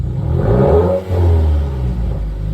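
A Subaru WRX with a new catback exhaust and otherwise stock engine gives a single short rev, a loud, close burble that swells and drops away within a couple of seconds, with no one speaking.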